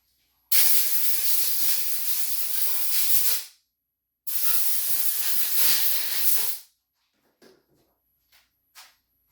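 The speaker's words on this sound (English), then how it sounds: "Let me give it a little wipe and then a quick spritz." Two long hissing bursts of spray cleaner, each about three seconds, hit a dirty Losi 3.4 nitro RC engine up close. A few soft clicks and taps follow.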